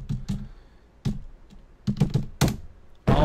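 Fingers tap on a computer keyboard in quick, irregular bursts of clicky keystrokes, close and distinct, with short pauses and a harder key hit at the end.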